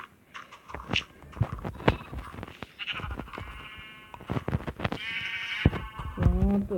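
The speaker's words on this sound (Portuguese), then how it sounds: "Ó, uma ovelha." Sheep bleat in a survival video game, several wavering calls rising over a busy background of game footsteps and clatter, with the loudest bleats coming close together near the end.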